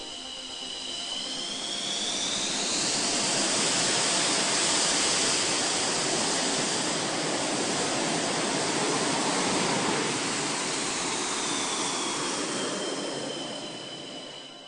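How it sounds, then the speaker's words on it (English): A MiG-29M OVT thrust-vectoring jet prototype flies a display at an air show, its engines a loud, sustained roar that swells and fades over about fifteen seconds, with a whining tone sweeping through the noise. "This is the quite extraordinary, the unbelievable MiG-29M OVT."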